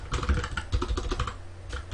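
Quick, close clatter of fingers typing on a computer keyboard, a steady run of keystrokes over a low background hum.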